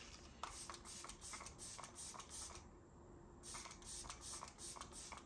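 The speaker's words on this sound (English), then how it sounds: "I'm using the Makeup by Mario setting spray" Makeup by Mario setting spray mists onto a face in a rapid run of short, quiet spritzes, a brief gap, then several more quick pumps close to the microphone.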